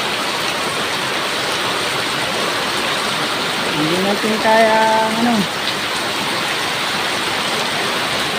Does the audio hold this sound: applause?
no